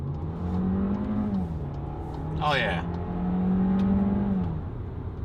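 A 2019 Volkswagen Jetta SEL engine pulls steadily under acceleration into traffic, a sustained droning hum that rises and holds, with someone speaking briefly over it partway through.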